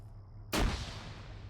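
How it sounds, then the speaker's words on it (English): In a military shooter game, a grenade goes off inside a building: a single sudden heavy boom after a quiet moment, fading into a long rumbling decay. "There was a grenade inside this fucking building."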